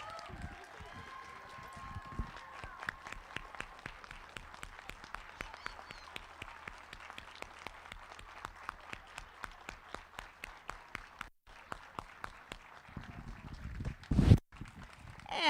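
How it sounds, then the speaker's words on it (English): Applause for fifth graders standing at a grade school recognition ceremony, heard as a long run of evenly spaced claps from a moderate crowd, steady for most of the stretch and tapering near the end, with a loud burst at the close. "And if we could give them one more huge round of applause."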